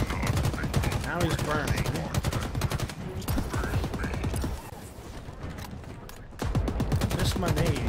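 Rapid gunfire from a Halo campaign played on legendary, with dense bursts of automatic shots continuing almost without pause, easing briefly before resuming loudly; a player talks over the shooting.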